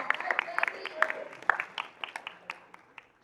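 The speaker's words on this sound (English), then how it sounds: "Give her a round of applause" Scattered claps from a small audience at a history lecture, a handful of sharp individual hand claps that thin out and fade toward the end. No one speaks over them.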